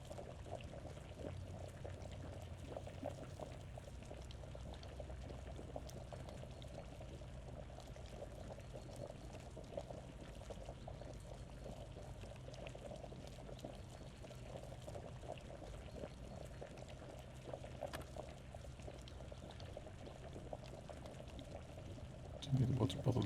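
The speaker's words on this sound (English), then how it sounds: "Ah, it's boiling, okay." A pot of water boils in the video game VEIN, a steady bubbling and pouring-like wash that runs faint and continuous throughout, with a voice talking over it.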